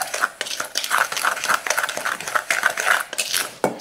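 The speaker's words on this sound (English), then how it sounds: "Just stir it up good." A spoon stirring a dry BBQ rub mixture of spices in a bowl, a quick run of scraping and clinking strokes against the dish, close and loud with no talking.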